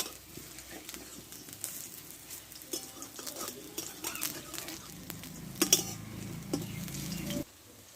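Pointed gourd fritters in a masoor lentil batter fry in oil with a soft, fairly faint sizzle, while spatula scrapes and pan clinks come and go before stopping abruptly.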